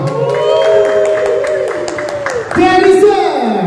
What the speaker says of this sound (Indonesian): Tepuk tangan dong, terima kasih